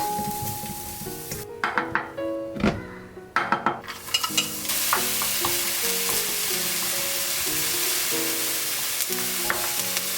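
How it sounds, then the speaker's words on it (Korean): Chili peppers stir-fried with a little salt in a pan, a spatula scraping and clinking against the metal in irregular bursts over a steady close sizzle, with no talking. "고추도 소금을 살짝만 넣어서 볶아줍니다."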